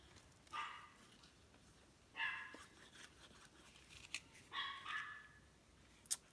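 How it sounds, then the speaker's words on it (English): A dog indoors barks several times at a distance, short sharp yips in three or four separated bursts, fairly faint in a quiet room. "I'm sorry, Gracie's barking, you guys"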